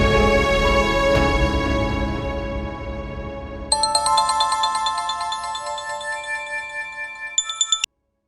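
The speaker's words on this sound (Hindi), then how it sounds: "किसका फोन है?" An electronic phone ringtone plays loudly, a bright repeating melody that changes pitch partway through before cutting off abruptly.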